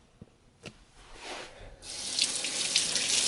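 Kitchen tap water runs steadily, growing louder as a sponge is rinsed beneath it after scrubbing soap into a plush toy, preceded by a few soft clicks and handling noises.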